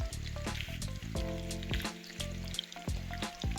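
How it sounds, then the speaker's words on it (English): Seasoned cauliflower frying in a pan with salt and pepper, a dense continuous sizzle and crackle with occasional stirring scrapes, close and steady with no voices. "So we're gonna fry this."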